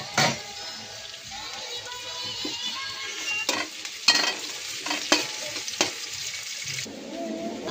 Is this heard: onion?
yes